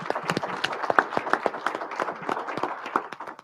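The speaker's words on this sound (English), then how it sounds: "One more round of applause for Madeline and the work she's doing." A small audience claps at a Rotary club meeting, giving a round of applause: a steady run of sharp, uneven hand claps that is moderately close and heard alone.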